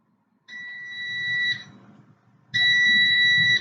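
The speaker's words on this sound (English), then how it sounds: "still beeping because of the energy" An EMF meter beeps near household appliances, giving two sustained electronic tones, each about a second long, separated by a short gap, close and fairly loud.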